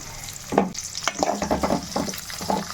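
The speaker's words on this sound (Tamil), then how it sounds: "இது நல்லா வதக்கிக்கலாம் இந்த வெங்காயத்தை" Chopped small and large onions sauté in a pan with a loud sizzle, broken by a run of scraping stirs and clatters close by.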